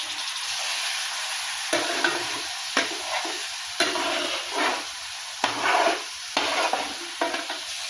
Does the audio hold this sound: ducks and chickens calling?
no